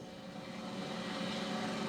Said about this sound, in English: police helicopter pilot Kevin Peters and his partner aerial observer Al Earhart were on patrol.